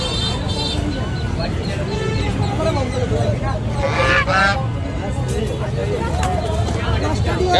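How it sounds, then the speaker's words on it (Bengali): Ducks, including Chinese ducks, and chickens honk and squawk amid the crowd noise of a Sunday poultry market at Baburhat bazaar in Chandpur, and people talk over a constant babble. "এখানে হাঁস মুরগি সব কিছুই উঠে। চীনা হাঁস আছে।"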